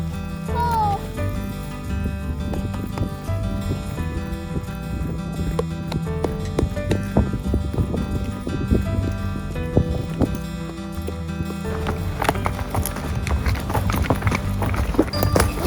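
Horses clip-clop along a trail through mountain meadows on a pack trip, hooves thudding steadily under ongoing outdoor noise, with voices faintly present.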